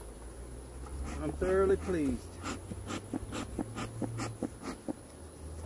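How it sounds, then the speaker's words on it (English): Bees buzz close around a beekeeper beside a hive, a steady insect hum with louder passes, while someone speaks briefly over it. "All these bees around me, they're from the Hive of Gloom down there."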